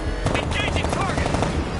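Dense rattle of machine gun fire during a Batman Arkham battle, rapid continuous bursts close and loud, with shouted voices over the shooting.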